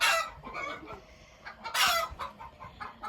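A pair of Ayam Cemani chickens, a rooster and a hen, clucking close by in repeated bursts of varied length, with a louder squawk near the middle and no talk.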